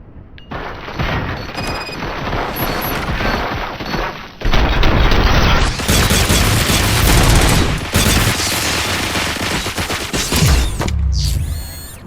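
Sustained gunfire from the video game RoboCop: Rogue City, dense overlapping shots and bursts that roll on continuously for several seconds, loud and heavy with booming impacts.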